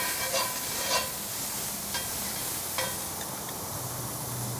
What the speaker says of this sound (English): Red onions. Just sweat them down a little bit.